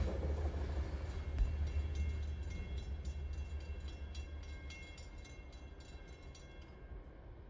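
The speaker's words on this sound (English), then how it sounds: "it's Nathan K5 LLA on top of the locomotive, which just blasted its way through town here" A freight locomotive blasts through town, its loud, steady rumble and rail roar filling the clip and slowly easing as it passes, with a faint horn-like tone near the start.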